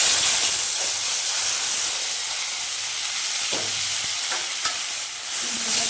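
Spice masala with cumin seeds frying in hot oil, a steady broadband sizzle and hiss with a few soft stirring scrapes near the end, no voices.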